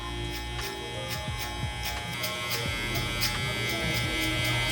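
An electric hair clipper buzzes steadily while cutting a burst fade, a close, continuous hum with light clicking touches and small shifts as the blade moves over the hair.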